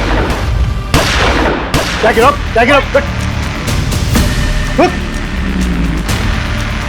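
Gunfire in a Hindi TV crime drama scene: several sharp bangs cut through a dense, loud mix of tense shouted dialogue and background score.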